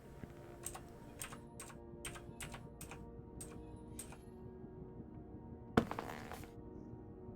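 A computer keyboard typed on in a quiet room, a short burst of about seven evenly spaced key clicks followed by one louder clattering cluster near the end, faint and close with no speech.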